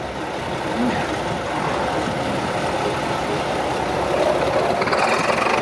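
A Caterpillar machine fitted with LeTourneau winches runs at a steam event, a steady loud engine drone with a rougher surge toward the end, close and alone.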